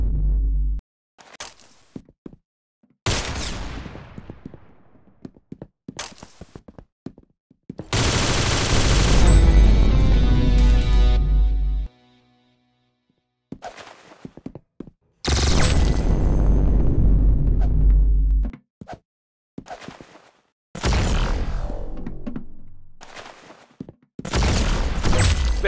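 Gunfire in the shooter game Valorant: loud bursts of automatic fire and single shots separated by silent gaps, some bursts ringing out with long decaying tails.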